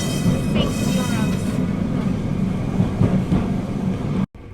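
Lisbon's tram 28 running on its route, a steady close rumble of wheels and motor with squeaks and clatter, ending in a brief cut to silence.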